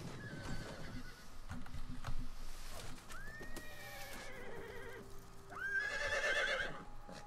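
Cavalry horses in the video game Total War: Attila whinny and neigh several times, loud and close, with battle noise and hoofbeats clattering underneath; no talking.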